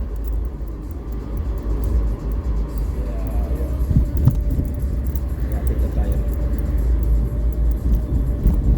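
A right-hand-drive car moves along a narrow street, giving a steady low engine and road rumble throughout, with a person talking over it.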